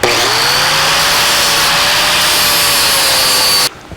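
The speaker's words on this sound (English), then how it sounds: "We need to take just a little bit off, so we'll make a corrected grind right here." A grinder takes a corrective pass on a quarter-inch steel driveshaft loop for a 1949 Chevrolet gasser, a loud, steady high-pitched whine held close for several seconds before cutting off abruptly.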